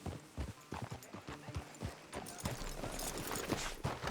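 Horse hooves clip-clopping in Red Dead Redemption, a rhythmic series of close, distinct hoofbeats at walking pace, moderately quiet, settling into a softer background wash toward the end.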